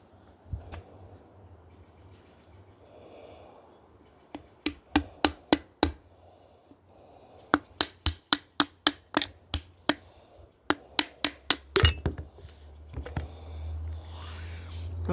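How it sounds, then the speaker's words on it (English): Metal hammer strikes on the gearbox shaft of a Honda auger ring out in quick bursts of several blows, with pauses between groups, close and loud against a quiet background. "I could get a hammer"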